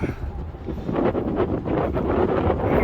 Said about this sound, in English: The wind's really picking up.